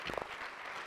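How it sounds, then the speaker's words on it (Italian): An audience at a press conference for Trento's economics festival applauds quietly, a dense, steady wash of clapping heard from a distance. "Direttore, che dire, si merita un applauso innanzitutto."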